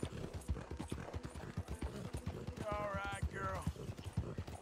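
Hooves of a big Strawberry Roan Ardennes horse clip-clop in a quick, steady rhythm as Arthur rides in Red Dead, with a person talking over the hoofbeats throughout.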